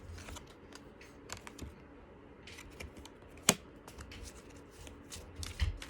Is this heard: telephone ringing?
no